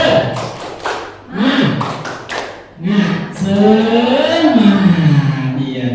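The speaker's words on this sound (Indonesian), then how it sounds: "Ulangi. Tepuk semangat." A group performs an Indonesian spirit clap during an ice-breaking activity: loud clusters of rhythmic claps and taps in quick patterns, mixed with group voices chanting along, the clapping strongest early and giving way to chanted voices.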